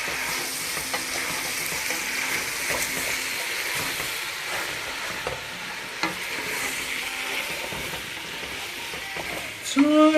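Pork sizzles loudly in a hot pan while being stirred for pork buns, a continuous frying hiss broken by scrapes and clinks of the utensil, with a sharp scrape near the end.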